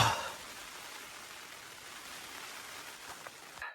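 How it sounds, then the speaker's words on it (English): Rain patters on a tent during a wild camp in the Kentmere hills, a soft, even, continuous hiss heard up close and fairly quiet, with no talking. "Started raining near the end of putting the tent up, so I literally just got in."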